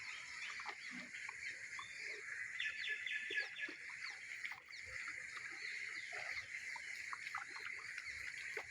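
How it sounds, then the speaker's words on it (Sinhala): A hen clucks on a fighting-rooster farm, with scattered bird chirps and calls over a steady outdoor ambience. "අන්න කිකිලිය කියනවා"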